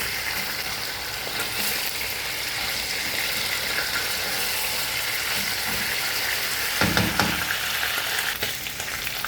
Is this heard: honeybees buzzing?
no